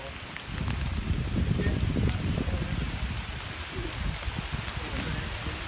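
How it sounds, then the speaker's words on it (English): Rain falls outdoors in lousy weather, making a soft, continuous patter of drops on surfaces at moderate distance, steady for a few seconds. "The weather's pretty lousy. It is raining."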